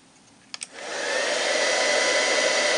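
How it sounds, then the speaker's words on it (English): Old-style single-setting Stampin' Up heat gun melting embossing powder on vellum, starting after a couple of clicks and rising into a steady, loud, continuous blowing whoosh. "It's time for the heat gun."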